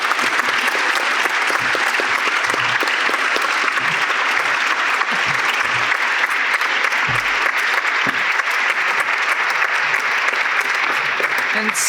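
Audience applause for artist Sarah Morris after an art talk, steady dense clapping filling the room for about twelve seconds with no let-up.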